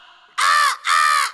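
A man imitates a crow with two loud, nasal caws in quick succession, close and clear in a comedy stage performance.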